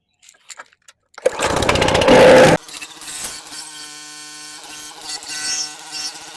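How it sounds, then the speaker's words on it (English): Pressure washer fitted with a foam cannon runs loud and steady for about a second, cuts off abruptly, and leaves a quieter mechanical hum and outdoor background afterward. "I've got a foam cannon that attaches to the pressure washer"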